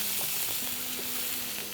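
Finely chopped medium onion sautéing in a hot spiced tempering for methi kohlrabi bhaji, a steady close sizzle with light crackles and a brief stirring scrape, no talk.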